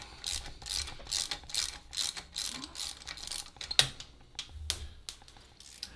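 Ratchet clicking in short bursts while undoing the muffler studs on a John Deere 1050 tractor with a Yanmar engine, close and fairly quiet, with a few sharper metallic knocks between the runs.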